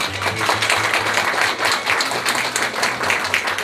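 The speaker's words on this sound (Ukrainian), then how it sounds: "Ваші оплески." Steady audience applause at a Ukrainian Unity Day event honouring a soldier, continuous even clapping from a sizeable hall crowd with a faint low hum beneath.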